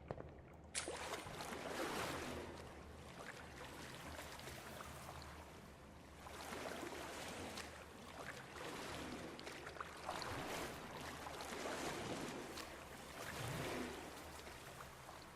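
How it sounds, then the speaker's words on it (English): Slow wading through water in a tiled indoor pool space, with continuous sloshing and splashing swells that rise and fall in several waves, close and fairly loud, no voices. "the sound of the water, the sound as we sort of slog through the water"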